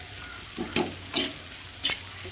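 Frying while making eggplant bharit with turmeric and salt, a steady soft sizzle in the pan broken by a few sharp stirring scrapes, fairly close and without talk.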